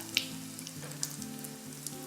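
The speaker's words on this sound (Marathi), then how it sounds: "मोहरी थोडीशी तडतडली की लगेचच हिंग घालायचे" Mustard seeds splutter in hot oil for a tempering, a faint continuous frying crackle with occasional sharper pops, close by and without talk.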